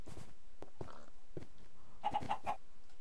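Chickens cluck in the game Minecraft in a short run of quick, clipped calls, closing with a tight cluster of brighter clucks, all at a steady moderate level.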